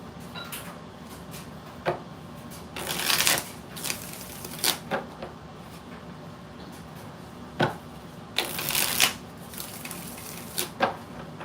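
Tarot cards being shuffled in several separate bursts of riffling and slapping, close and crisp, with quiet gaps and soft handling noises between each round.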